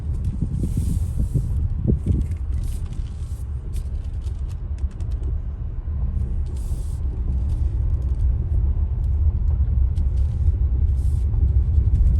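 A 2022 Hyundai Palisade Calligraphy FWD drives along with a steady low road rumble and engine hum from inside the cabin, with faint creaks and ticks over the constant noise.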